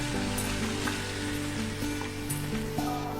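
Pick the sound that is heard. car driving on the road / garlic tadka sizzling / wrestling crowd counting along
garlic tadka sizzling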